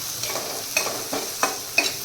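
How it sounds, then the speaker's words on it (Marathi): Chopped onion, chili and garlic fry in oil in a pan with a steady sizzle, broken by four scraping stirs of a spatula at a regular pace. "आता आपण इथे आता कांद्यासोबतच आपण ही मिरची, लसूण छान मस्त फ्राय करून घेणार आहोत"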